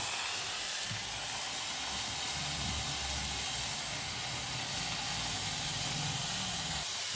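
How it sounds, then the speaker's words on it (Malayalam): A pressure cooker whistle lets off steam in a continuous loud hiss, steady and unbroken throughout. "ഇതാണ് നമ്മളെ കുക്കർ വിസല് ആദ്യം കൂടെ പോകുന്നത്"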